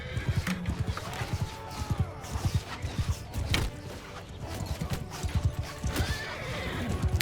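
Horses ridden by horse archers in the video game Mount and Blade 2 Bannerlord, with loud rhythmic clip-clopping hooves and repeated neighs and whinnies over a busy battle din.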